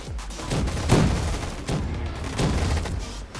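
Gunfire and explosions in the shooter game Gun Fight Arena: close, loud shots and booming blasts roll together in a dense, continuous barrage with a few sharper peaks.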